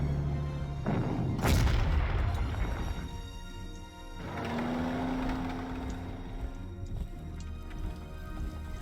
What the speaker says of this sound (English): there's my level bomber doing level bomber things